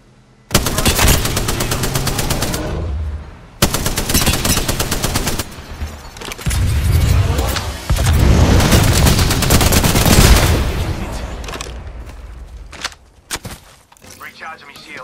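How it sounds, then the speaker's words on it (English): Apex Legends gunfire rattles loud and close in long automatic bursts with brief gaps between volleys, under occasional speech. "Being shot at. Getting shot at."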